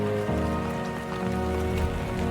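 Steady rain pattering on surfaces in the video game Death Stranding 2: On the Beach, a continuous hiss of drops over a low sustained musical tone, with no talk.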